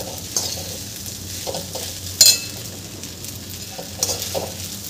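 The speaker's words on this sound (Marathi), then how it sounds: "आता मी हे छान मिक्स करून घेत आहे." Sabudana khichdi with whole fried peanuts being stirred in a pan over low to medium heat, a steady soft sizzle broken by occasional scraping strokes and one sharper clink, close and alone with no talking.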